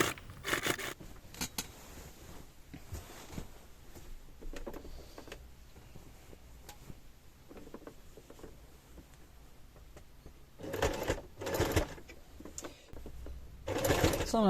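A sewing machine stitches a quilt in short whirring bursts, with a longer stretch of quiet handling in between and louder runs near the end.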